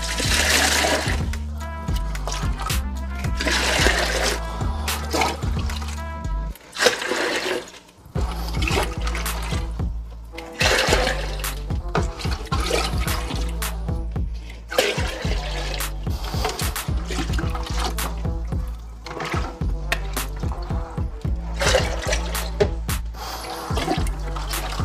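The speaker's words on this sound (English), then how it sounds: "So we're gonna do 8 liters, guys, of just normal tap water, dechlorinated, bubbled," About eight liters of dechlorinated, aerated tap water pours loudly and continuously into a container for a grow tent, a steady gushing splash with gurgling surges throughout.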